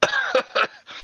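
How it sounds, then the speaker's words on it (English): A person coughing in a short fit, three or four quick harsh coughs close to the microphone, with a slight throat-clearing quality. "Just got a coughing fit."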